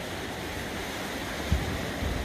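Soft, steady wash of ocean surf on a beach during a morning walk, a continuous low rumble with one brief thump partway through, fairly quiet and even throughout.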